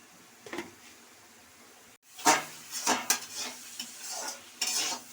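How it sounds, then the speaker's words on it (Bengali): Spiced fish-bone curry base being stirred and sautéed in oil in a pan, with a spatula scraping and clattering against the metal in several bursts over a soft sizzle, close and with no voices. "আরেকটু কষবো,"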